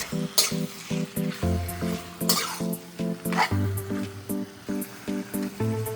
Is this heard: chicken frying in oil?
yes